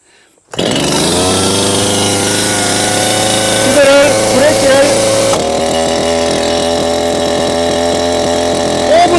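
A Stihl MS230 chainsaw engine starts after a pull and settles into a loud, continuous close-up idle with revving changes.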